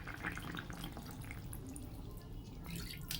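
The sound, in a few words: water added to a pot of boiled potatoes to boil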